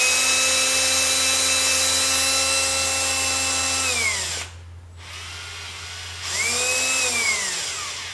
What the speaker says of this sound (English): I ain't gonna use an impact, I'm just gonna use a normal drill